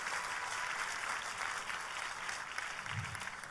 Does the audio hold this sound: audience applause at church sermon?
yes